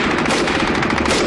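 Machine gun fire in a wartime battle, a dense rapid burst of loud automatic shots with no pause across the short stretch.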